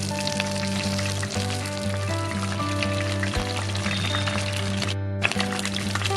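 Curry leaves hit hot oil in a pan for a Kerala-style egg roast, giving a steady, close crackling sizzle with a low hum underneath throughout, broken by a brief cut near the end.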